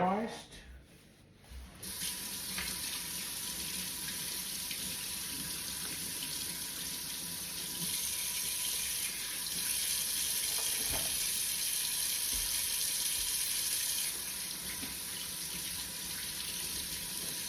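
Red and other bell peppers rinsed under a running kitchen tap, with a steady hiss of water splashing into the sink that continues at a fairly constant level throughout, close and moderately loud.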